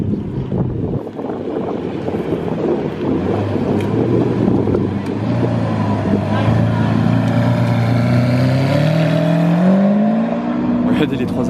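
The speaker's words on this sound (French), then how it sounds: "il y a les Zagato qui arrivent derrière" Several Zagato hypercars roar past at speed on a closed road, engine notes rising in pitch as they approach, loud and close with wind buffeting the microphone.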